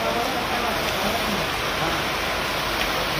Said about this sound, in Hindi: रुक तो रुका ही नहीं बारिश।